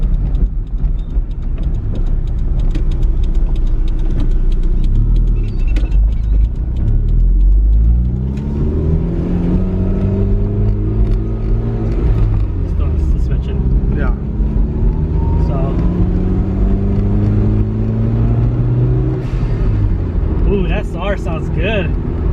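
Toyota MR2 with an SR engine driving, its engine and exhaust giving a steady loud drone with rising and falling revs as it accelerates, while people talk over it throughout.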